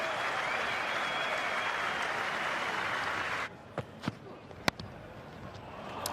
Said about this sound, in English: And raises the bat to an appreciative crowd